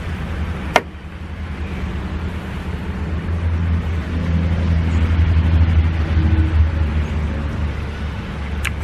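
RV black water tank draining through a sewer hose, a low steady rushing rumble that swells and holds, preceded by a sharp click of the 3-inch valve opening.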